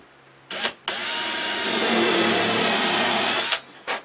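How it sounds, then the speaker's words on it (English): A power drill or driver runs steadily for about three seconds, driving screws into an MDF cabinet, with brief clicks and handling noises before and after, close and loud. "we'll just stick a few screws in just to"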